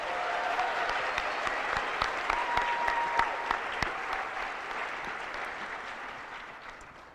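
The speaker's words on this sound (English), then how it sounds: "Let's give them a big round of applause." An audience at a senior awards night gives graduating seniors a sustained round of applause: dense, even clapping from a large crowd that holds steady and then slowly tapers off, with faint cheers mixed in.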